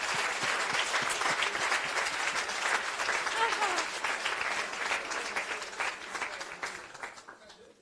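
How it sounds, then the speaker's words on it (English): An audience in a European Parliament room in Brussels claps steadily and fairly loudly for several seconds, the applause gradually thinning and fading toward the end. "a clap to the reviewers out there in the room"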